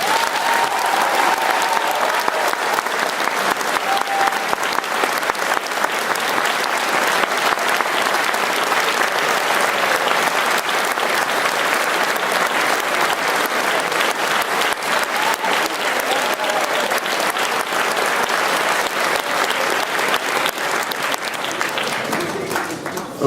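A school Founder's Day assembly audience applauds at length, a dense, even wash of clapping from a large crowd. It holds steady for over twenty seconds and tapers slightly at the very end.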